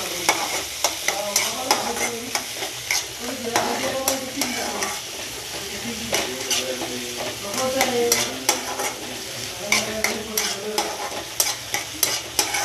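Onion, cumin and curry leaves sizzling in hot oil in a home kitchen, a steady crackling fry punctuated by frequent sharp scraping stirs of a spoon against the pan, close and fairly loud with no voices.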